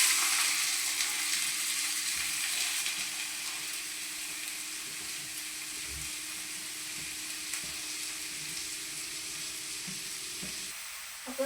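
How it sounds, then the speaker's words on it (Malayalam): Finely chopped onions frying in hot oil for a vegetable biryani give a dense, steady sizzle close by, with faint occasional stirring and no voices, ending in a brief clatter. "അപ്പോൾ നമുക്ക് സവാള ഇട്ട് കൊടുക്കാം"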